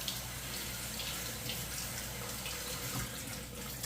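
Tap water runs steadily while pine cones are washed in warm water at a sink, a continuous close splashing rush with faint variation and no voices.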